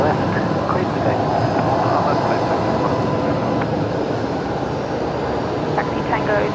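A jet airliner takes off from runway 19 left at Brisbane Airport, its engines a continuous heavy roar heard from nearby, while a voice speaks over the noise.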